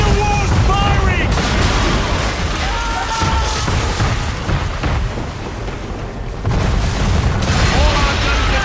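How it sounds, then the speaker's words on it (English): Man-of-war warship cannons booming in Assassin's Creed III, loud heavy blasts with rumbling decay amid naval battle noise, a sharp burst near the start and another near the end, with shouting voices over it. "Man of war's firing!"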